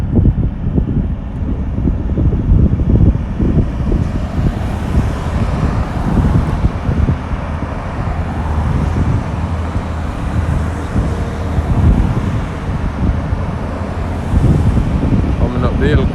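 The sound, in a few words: truck driving up Melrose Hill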